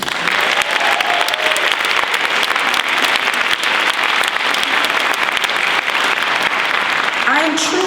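Loud, steady applause from a large crowd at the 2015 SCNM graduation ceremony, dense clapping that carries through the whole stretch without pause.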